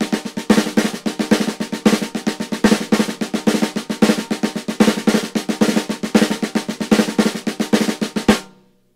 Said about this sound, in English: play an open double stroke wherever you see an accent